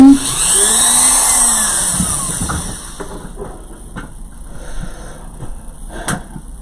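A Dremel rotary tool whines at high pitch, close and loud, as its speed sweeps up and down. The whine then fades into softer clicks and scraping handling noises.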